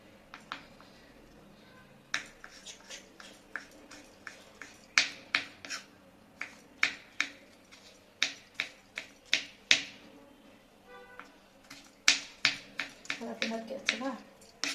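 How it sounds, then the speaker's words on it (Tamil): Tomatoes are chopped into small pieces with a knife for a Bangalore street-food bun nippat masala. Sharp, crisp taps on a board come in irregular bursts of quick strokes, close and clear, with pauses between runs. "இப்போ டொமேட்டோ கட் பண்ணிக்கோங்க. குட்டி குட்டியாக எல்லாமே ஸ்லைசஸ் குட்டி குட்டி குட்டி குட்டியாக நறுக்குங்க"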